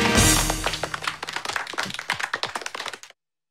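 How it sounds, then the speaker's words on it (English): Cartoon audience applauding the Valley Baby: crisp, scattered hand claps build into a quick patter for a couple of seconds, then cut off abruptly. "Please applaud the Valley Baby!"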